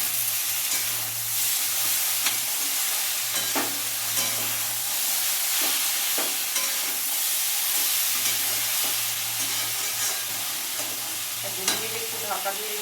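Chickpea masala with okra frying in a pan as slit green chillies go in: a steady sizzle with repeated stirring scrapes and clinks, plus a low hum running underneath, no talking.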